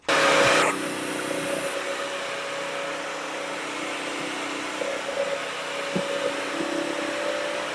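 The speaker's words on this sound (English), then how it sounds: "let's see how good it does just kind of picking up that as a vacuum pretty much" A Bissell Crosswave HydroSteam wet-dry floor cleaner vacuums up hair, running with a steady, loud motor whine and airflow hiss, with a brief louder burst at the start and small clicks later.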